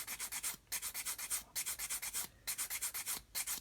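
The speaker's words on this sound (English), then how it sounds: "and sand a taper onto the end of it" Rapid rhythmic rasping of coarse sanding against plastic, in quick back-and-forth bursts with brief pauses between sets.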